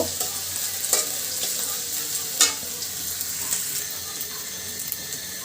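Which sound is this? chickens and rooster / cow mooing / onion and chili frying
onion and chili frying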